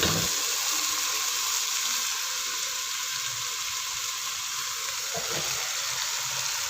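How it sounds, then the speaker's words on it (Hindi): Desi chicken sizzles as it fries in tomato paste in a pan, giving a steady loud hiss with no pauses, close up and uninterrupted, with faint clinks beneath. "देसी चिकन डालकर 6 से 7 मिनट के लिए हमने इसको अच्छी तरह से भूनना है"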